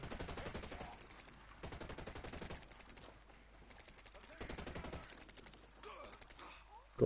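Gunfire in the video game Ghost Recon Breakpoint, sustained rattling automatic bursts that fill the stretch, with players talking faintly underneath.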